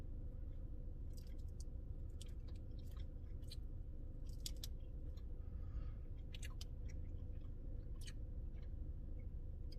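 Someone chews a small bite of a soft, brownie-textured keto dessert up close in a quiet room, with faint, scattered mouth clicks and squishes over a low steady background hiss.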